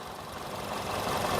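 A 2016 Volkswagen Vento Highline car engine idles with a steady, close mechanical hum and light knocking, slightly swelling in loudness, with no voices.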